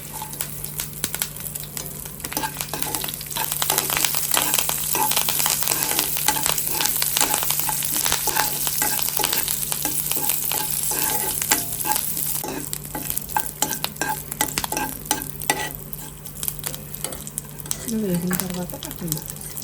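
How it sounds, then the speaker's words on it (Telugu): Tempering spices such as cumin, mustard seeds, dried red chillies and curry leaves frying in oil in a pan, a steady close sizzle with dense crackling pops and occasional stirring scrapes, continuous and loud across the whole stretch. "కొంచెం అదే ప్యాన్లోకి కొంచెం ఆయిల్ పోసుకుని పోపు దినుసులు అన్నీ వేసుకోవాలి"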